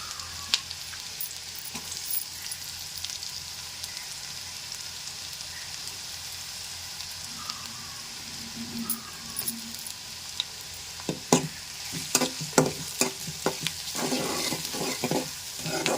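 Onions and green chillies frying in oil for a cauliflower and tomato curry, a soft steady sizzle with crisp scrapes and clicks of stirring that grow busier toward the end.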